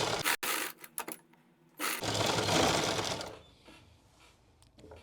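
A sewing machine stitches a suit neckline, with a few close handling clicks, then a steady, near whirring burst of stitching that fades into quieter rustling.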